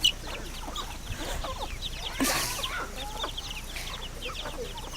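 Several farmyard chickens clucking in short, scattered bursts over a low outdoor background, fairly close, with no one talking.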